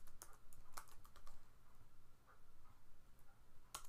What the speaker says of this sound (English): Let's just type in a random one, maybe John Fallacre's